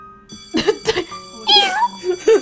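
A human voice imitates a cat with a few drawn-out meows, nasal and sing-song, close and fairly loud, one rising higher in the middle.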